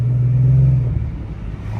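Infiniti G37 with long tube headers idling roughly, a loud, close, low rumbling exhaust drone with a steady hum that dips and wavers after about a second.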